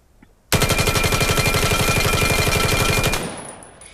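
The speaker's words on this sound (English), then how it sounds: "It is an automatic, and it's really fast shooting" Fast automatic gun in the shooter game Vail, one rapid unbroken burst of about two and a half seconds with evenly spaced shots, loud and close, ending in a brief ringing tail.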